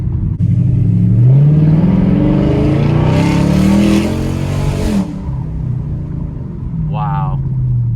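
A car fitted with a Flowmaster Outlaw catback exhaust with mufflers revs loudly up close, a deep throaty rumble rising and falling as the engine climbs and settles back.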